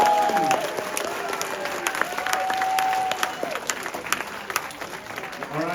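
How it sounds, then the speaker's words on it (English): An audience at a math league summer tournament claps for a competing team, steady applause filling the space throughout, with some voices and a few whistles mixed in. "let's have a round of applause for Team 1."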